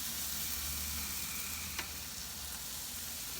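Babyback ribs and vegetables in a pan over grill heat give off a steady, dense sizzle while being stirred, with one faint clink partway through and no voices.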